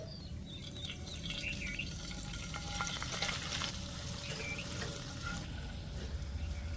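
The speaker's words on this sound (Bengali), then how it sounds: "এখানে জলটা কিন্তু খুব সুন্দর করে একটু ফুটে গেছে" A small amount of water bubbles and sizzles in a pan of gram-flour batter, a steady close hiss and crackle that continues throughout without speech.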